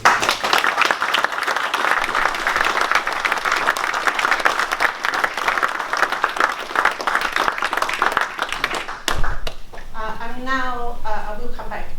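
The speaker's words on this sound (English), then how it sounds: "maybe we could just give Nico a round of applause" A meeting audience at the Waitrose Innovation Studio gives a sustained round of applause for a departing colleague, dense clapping throughout before a voice resumes speaking near the end.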